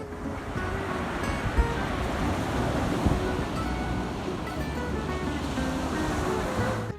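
Ocean waves surge and crash continuously in steady broadband wash, with wind buffeting the microphone throughout and no talk.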